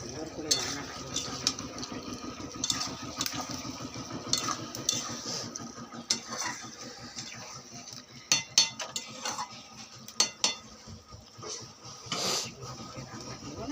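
Kitchen cooking with pots and utensils clinking, scattered metallic taps and scrapes with some running water, moderately close, while someone talks over much of it.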